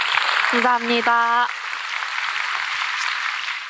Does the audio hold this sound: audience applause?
yes